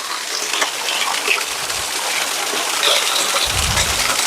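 Water rushes and splashes steadily at Ramapuram waterfalls in thick forest near Tirupati, a broad, close wash with a couple of dull low thumps mixed in and no talking.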